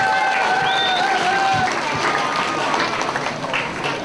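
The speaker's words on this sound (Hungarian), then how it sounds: "Ötös szintig bírta, úgyhogy nagy tapsot érdemel." A crowd at an outdoor chili festival claps and cheers loudly, with a brief whistle-like tone near the start and voices blending into the steady wash of applause.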